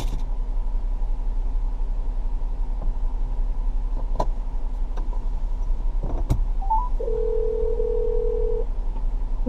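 A telephone call being dialed from a car's hands-free system: a steady tone sounds, then a higher ringback-like beep, over a constant low road hum.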